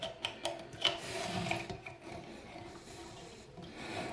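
A plastic nut is hand-tightened onto the bottom of a toilet fill valve beneath the tank, giving soft close rubbing and scraping with a few light clicks, quiet and intermittent.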